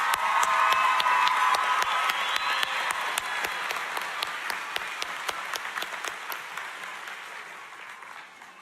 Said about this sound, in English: Can I get another round of applause for Councilwoman Ellis?